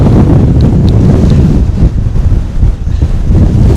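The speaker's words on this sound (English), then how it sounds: "This wind is naughty." Strong gusting wind on an exposed hill ridge buffets the microphone in a loud, continuous roar that swells and dips slightly, with no talking.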